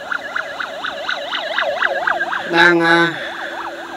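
An ambulance siren wails in a fast, repeating up-and-down pattern from behind on a road in Laos, loud and close, with a brief horn blast and a short spoken word partway through.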